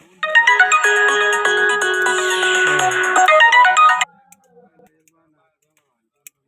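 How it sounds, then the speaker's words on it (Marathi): A bright electronic phone ringtone plays a looping melody loudly for about four seconds, then cuts off, leaving a few faint clicks. "तीनदा फोन माझा वाजवतो"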